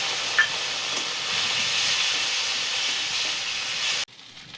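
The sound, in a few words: frying ground chilli spice paste for fish curry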